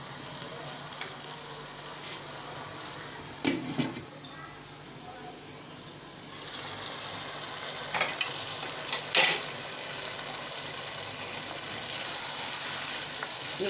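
Chicken korma cooking in a pot, a soft continuous sizzle with a few brief stirring scrapes and knocks, steady and fairly quiet throughout.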